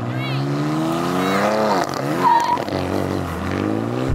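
At a drag race start, a BMW XM Label Red and a BMW M4 CSL accelerate hard side by side, engine notes climbing through rising pitch sweeps and gear changes, loud and close.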